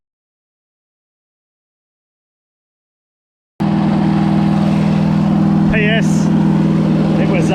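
Silence gives way to a small engine running steadily and close, rich with the choke on, with a rough constant drone and a few brief squeaky tones on top.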